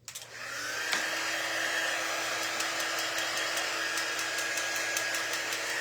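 A hair dryer blows steadily on craft pieces, bunny shapes for an Easter project, starting up and then holding a loud, continuous whirring rush with a faint whine throughout.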